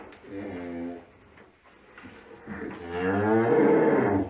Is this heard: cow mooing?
yes